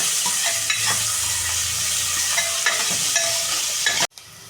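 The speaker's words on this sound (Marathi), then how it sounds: "आता आपण ह्याच्यामध्ये कांदा टाकणार आहोत आता हा कांदा आपण पूर्ण गाळ करून घेणार आहोत तेलामध्ये" Onion frying and being stirred in hot oil for a Maharashtrian mixed Bhogi vegetable dish, a steady loud sizzle with spoon scrapes throughout that cuts off abruptly near the end.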